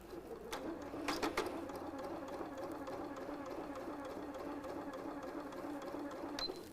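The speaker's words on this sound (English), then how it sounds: "So let's sew a few stitches." A sewing machine runs steadily, stitching binding onto a quilt with a close, continuous mechanical whir and rhythmic needle chatter, joined by a few brief sharp clicks.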